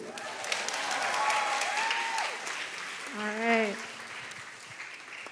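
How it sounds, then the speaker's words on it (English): A show audience applauds, a steady patter of clapping throughout, with a voice speaking briefly over it partway through. "so really big applause for them"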